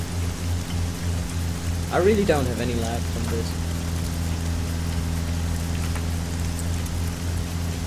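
Steady, even rainfall in the military video game ARMA 3 (Overpoch mod) hisses continuously throughout, with someone talking briefly over it.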